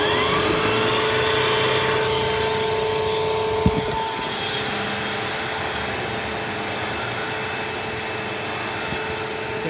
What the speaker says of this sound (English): let's put the turbo brush on like that, and then you turn the vacuum on